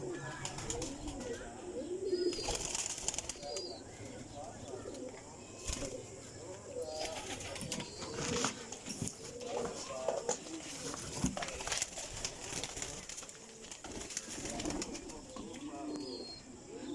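Golden flying pigeons coo in low, repeated murmurs amid steady bird chatter and rustling, with occasional louder flutters and knocks nearby; a voice talks intermittently over them.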